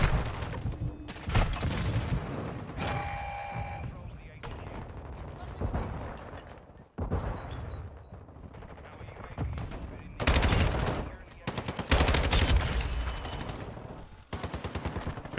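Lockman 5.56 rifle fire in the video game Modern Warfare 2, heard as repeated loud bursts of shots and booms across the match, mixed with game sounds and some voice chatter.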